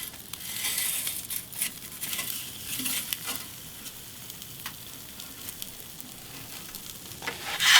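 A pizza topped with a fried egg sizzles in a wood-fired Neapolitan oven, with crackling and light scraping as it is turned, growing louder near the end.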